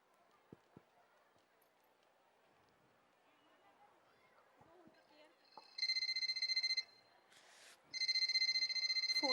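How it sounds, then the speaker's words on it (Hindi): A telephone rings on stage during a school annual day play, sounding as two sustained electronic ringing bursts over a faint murmur of hall noise and quiet voices. "फ़ोन उठा बेटा।"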